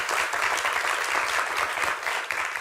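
A studio audience on a French television quiz show applauds steadily, a dense even clapping that fills the whole stretch with no voices over it.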